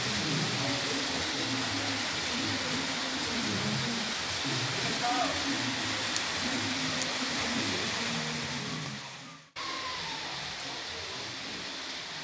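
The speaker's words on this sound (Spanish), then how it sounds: "Empezó a llover." Steady rain falling outdoors, a continuous broadband hiss that holds for about nine seconds, cuts out briefly, then resumes, with a low rumble beneath and faint voices mixed in.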